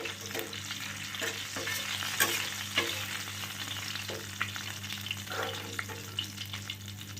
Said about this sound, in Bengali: তো কই মাছ ভাজা হলো